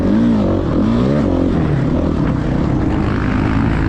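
Dirt bike racing around a motocross track in Alabama, held mostly in third gear, its engine a loud, continuous close-up roar with shifting pitch as the throttle works, no talk over it.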